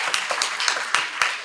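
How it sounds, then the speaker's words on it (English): A church congregation at an English worship service gives a brief round of applause, a dense burst of clapping with a few sharper claps, close and lively for about a second and a half. "Shall we bless them with a round of applause?"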